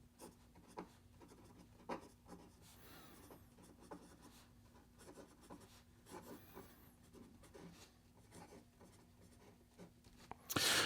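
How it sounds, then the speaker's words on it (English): Fountain pen with a cursive italic nib writing on paper, a close, quiet scratching with short strokes and small taps, ending in a brief louder rustle. "here we go with the rest of the writing sample"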